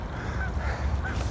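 A goose honks twice in quick succession near shallow water, with nasal calls over steady low outdoor background noise.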